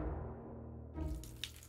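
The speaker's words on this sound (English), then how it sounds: "Ah, a well-functioning faucet." A running faucet in the video game Deponia Doomsday, a steady close rush of water that starts partway through over a low background hum, with a brief splash near the end.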